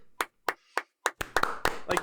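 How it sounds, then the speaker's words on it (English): Hands clap close by: four sharp single claps spaced evenly apart, then a quicker, fuller run of claps with voices chatting underneath. "I'm good at clapping."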